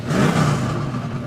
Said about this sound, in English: nothing like the sound of the roar of the big bore of the Pro 2s